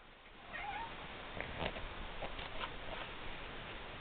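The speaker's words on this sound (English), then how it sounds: "every time I talk, my cat's gonna meow" A pet cat meows indoors, a few short, moderately close calls over a steady low background hiss.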